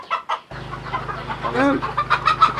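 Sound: chickens clucking on a poultry farm

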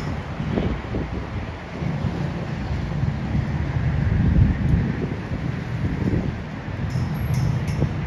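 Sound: strong wind blowing on microphone at beach

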